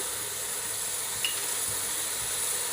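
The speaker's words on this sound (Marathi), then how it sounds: "भिजवून ठेवलेली हरभऱ्याची डाळ घालायची।" Soaked chana dal dropped into a hot pan for a bottle gourd sabzi, giving a steady, moderately quiet sizzle and hiss that runs throughout, with one small sharp tick partway through.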